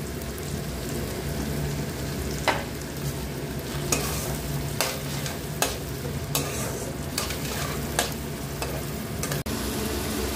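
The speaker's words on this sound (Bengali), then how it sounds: "একটু হালকা নাড়াচাড়া করে এখানে আমি একটা ছোট টমেটো পেস্ট করে রেখেছিলাম, সেই পেস্টটা দিয়ে দিচ্ছি।" Chicken fries in a pan with tomato paste added while it is stirred. A dense, rain-like sizzle runs throughout, marked by sharp periodic scrapes and taps of the spoon against the pan, with no talking.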